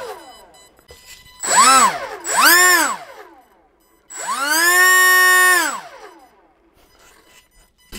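An E-Flite Delta Ray One RC plane's electric motor is throttled up three times, two short whining bursts then a longer sustained high-pitched whir, each rising and falling in pitch, loud and close.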